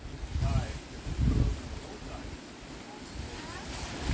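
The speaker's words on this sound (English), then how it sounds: "The wind is not our friend." Gusty wind buffets the microphone outdoors at an off-grid camper site, with low rumbling surges rising and easing and faint voices mixed in.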